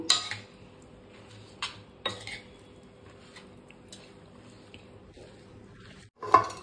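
A spoon works through a washed dry fish mixture in a pot, giving sparse metallic clinks and knocks, a few sharper strikes standing out against quiet scraping and near silence between them.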